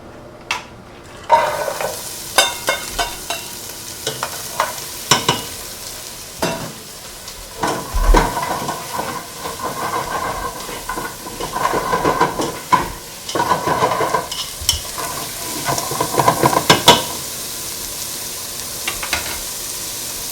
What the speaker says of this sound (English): Now we put all the vegetable we cut inside a pan with a little bit of olive oil.